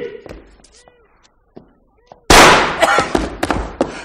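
A gunshot sound effect in a French radio mystery drama: a sudden loud blast bursts out after sparse quiet sounds and echoes away in a few sharp decaying cracks.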